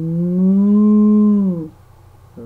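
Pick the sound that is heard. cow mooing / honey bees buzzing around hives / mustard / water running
cow mooing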